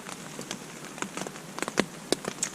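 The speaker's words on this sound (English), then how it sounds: "You hear the rain? We're cozy in here." Light rain falls on a tent at a motorcycle campsite, with scattered drops tapping close and irregularly over a faint, soft patter, and no voices.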